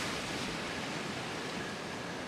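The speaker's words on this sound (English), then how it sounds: "I really love that white water on rough days and the huge sprays from the crashing waves." Ocean waves crash onto the shore at Little Bay, Jamaica, a steady broadband roar of surf and white water with no distinct breaks, loud and continuous.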